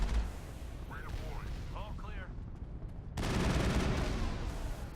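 Turret gunfire pelting the Mako armored vehicle in Mass Effect on a hostile planet, a dense rattling barrage that swells louder partway through, mixed with game sound effects and background talk.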